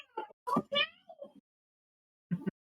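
A cat gives a few short meows, mixed in among nearby voices chatting, then falls quiet before one more brief sound.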